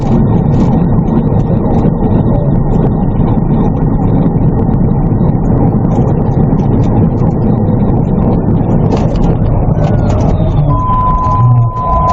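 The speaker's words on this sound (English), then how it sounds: "the distant wail of approaching sirens" Police sirens wail faintly in the distance beneath a heavy, continuous rumble of engine and road noise inside a police car, with a thin rising tone emerging toward the end.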